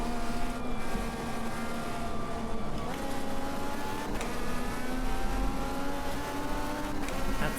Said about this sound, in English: The sound coming out of the engines is way better than iRacing